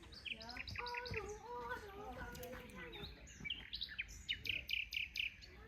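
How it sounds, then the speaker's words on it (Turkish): Birds chirp and tweet repeatedly at sunset in a village, quick high calls, fairly faint, with a few birdsong phrases layered over a quiet background. "Ne güzel kuş sesleri arkadaşlar"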